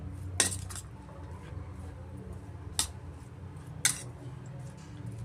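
A spoon mixes boiled peanut salad with lemon juice in a bowl, three sparse metallic clinks against the rim over a quiet background.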